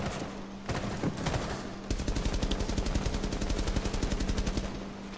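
Rapid automatic gunfire in the video game Rainbow Six, first in short scattered bursts, then a long steady stream of fast shots at a regular rhythm, loud and close.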